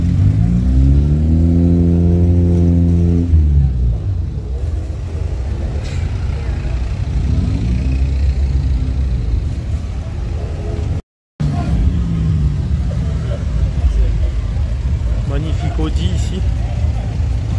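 Car engines rumble and rev nearby at a car and motorbike rally in southern France, some with Porsche engines, one with a rising and falling roar early on, while people talk over the traffic noise.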